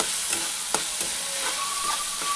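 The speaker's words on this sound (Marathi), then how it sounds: "कांदा आणि डाळ भाजून झाले की इथे एक छोटासा लाल टोमॅटो घेतलेला आहे, तो देखील भाजून घ्यायचा" Onion, chana dal and a small red tomato frying in oil, a constant close sizzle punctuated by several spatula scrapes and taps, with no speech.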